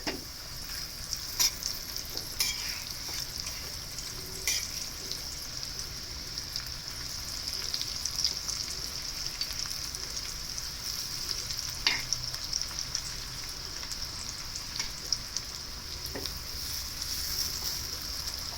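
Raw banana slices fry in hot oil in a pan for traditional Konkan kelyache kaap, giving an even, continuous crackling sizzle with a few faint scattered pops, steady and close throughout.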